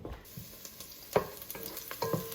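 Onions frying in a pan while kale is being cooked, a low steady sizzle broken by a few sharp scrapes and clinks of stirring, close and fairly quiet with no voices.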